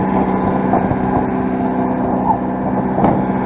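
An engine idles a little high after running poorly and stalling, fitted with an exhaust stick, making a steady, loud, continuous rumbling drone close by with slight fluctuations and no talk.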